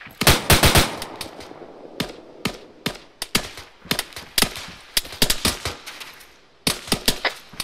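A mounted gun in the military shooter game ARMA 3 fires in sharp bursts and single shots, loud and close, with irregular rapid cracks separated by short gaps and no talking.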